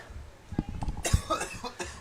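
A few short, close coughs in quick succession, rough and breathy, with a faint background hum.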